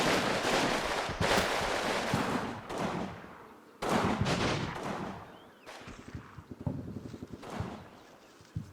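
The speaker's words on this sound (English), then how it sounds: "No sooner the LMG team cleared this threat than they come under fire from building number 4" Gunfire in the video game Combat Mission, with bursts of shots and scattered rapid single cracks coming from a building during an exchange of fire, loud at first and then more intermittent.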